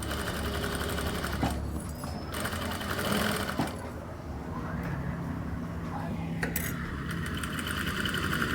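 Sewing machine stitching the back neckline of a Paithani saree blouse, a steady close whirring hum with brief pauses and small clicks, with a voice speaking over it.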